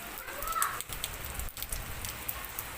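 Heavy rain falls steadily outside an apartment building in Bangalore, a soft, continuous hiss of drops heard from some distance, fairly quiet throughout.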